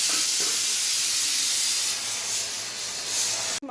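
A pressure cooker venting steam, a loud continuous close hiss that holds steadily for several seconds and then cuts off abruptly near the end.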